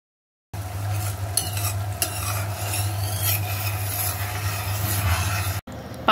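A spoon scrapes and stirs a boiling almond katli sugar mixture in a pan, steady bubbling sizzle with rhythmic rubbing strokes against the metal, close and continuous until a brief clatter near the end.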